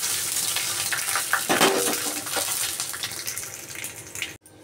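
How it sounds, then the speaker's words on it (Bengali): Dry red chillies, whole cumin, fennel seeds and bay leaves hit hot oil and crackle in a loud, close, continuous sizzle with bursts of spitting, briefly cut off near the end. "এই গরম তেলের উপরে আমি যে এই ফোড়নগুলো সব রেখেছি, শুকনো লঙ্কা, গোটা জিরে, মৌরি, তেজপাতা সব আমি একসাথে দিয়ে দিলাম"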